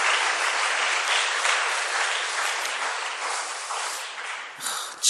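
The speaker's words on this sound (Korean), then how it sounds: "우리 수고한 6학년 하고 선생님께 박수 한번 하겠습니다" A Wednesday evening church congregation applauds the sixth graders and their teacher, a thick, continuous wash of clapping that stays steady for several seconds, then trails off and ends with a short final burst.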